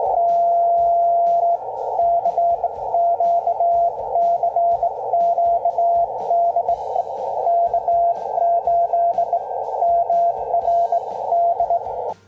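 Steady CW carrier tone from a Xiegu G106 radio transceiver, a loud continuous pure whistle held for about twelve seconds with faint background clicks and rustle beneath it.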